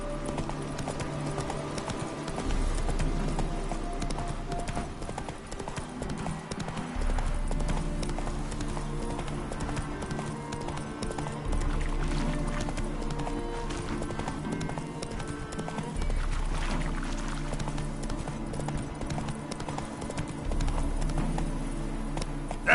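Roach, the horse in The Witcher game, gallops in steady repeated hoofbeat cycles for over twenty seconds, close and even, over a bed of background game music.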